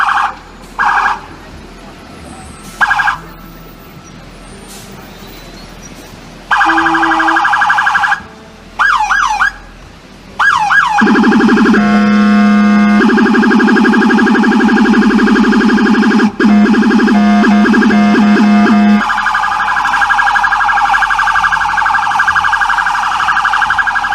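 An NYPD police car works its siren and low rumbler through crowded Hell's Kitchen traffic, loud and close: bursts of wailing and yelping tones, then a sustained deep rumbler drone under the siren, with traffic noise between blasts.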